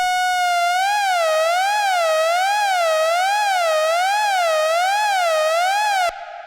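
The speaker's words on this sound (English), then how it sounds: "let's use oscillator 2 in low frequency mode to modulate oscillator 1" An ARP 2600 synthesizer tone, one oscillator modulated by a second in low-frequency mode, sweeps loudly and steadily up and down in a regular wailing cycle like a siren, then cuts off abruptly near the end.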